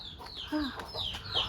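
Chickens cluck in a short burst at close range, with several quick bright calls rising and falling over soft background noise.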